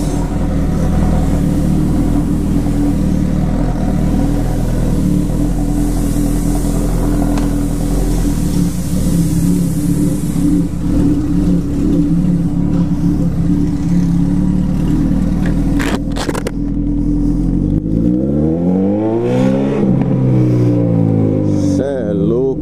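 A motorcycle fitted with only a bare exhaust pipe, its Yoshimura tip removed, revving loudly and continuously nearby, with rising and falling engine pitch toward the end.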